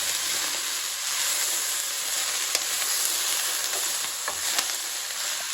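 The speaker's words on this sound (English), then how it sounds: "here comes the last of the leek. And now I'm mixing it in" Leek gets stirred into a sizzling broad bean curry pan, a close and steady frying hiss broken by a few light scrapes and taps from the spoon.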